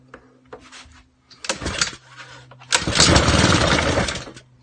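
A Honda GVC135 small engine with a temporary choke puller is cranked with a couple of short pull-start rasps, then catches and runs loudly and roughly at close range.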